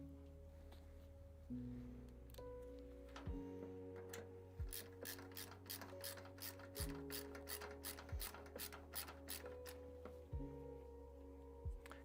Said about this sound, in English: Take out a couple of bolts.